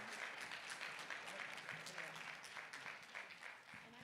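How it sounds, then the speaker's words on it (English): Audience at a Nashville Black Assembly town hall applauding the panelists, a dense, steady clatter of many hands clapping close by for about four seconds and tapering slightly at the end. "please give our panelists a big round of applause"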